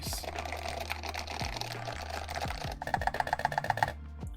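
Typing on a Parabolica 60 mechanical keyboard, a quick run of soft clacking keystrokes that builds into a denser burst of taps near the end, close and moderately quiet.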